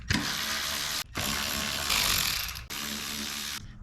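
Ratcheting wrench clicks and mechanical whirring as bolts come off the underside trim of a 2024 Toyota Land Cruiser, three continuous bursts separated by short pauses, close and steady.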